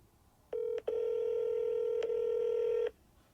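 A phone emits a short dialing tone followed by a longer steady tone, with faint clicks marking the keypresses, heard clearly and close up against quiet room noise.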